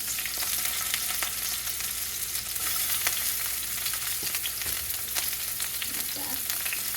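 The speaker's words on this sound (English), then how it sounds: "I'm gonna start off by placing these down into the skillet." Shamrock eggs fry in a skillet with a dense, continuous hiss and crackle held at an even level, joined by a few faint utensil taps.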